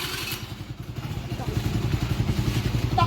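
A motorcycle out of gas refuses to start, its engine turning over in a rapid low rhythmic chug that grows louder and rougher near the end, with a voice briefly heard over it.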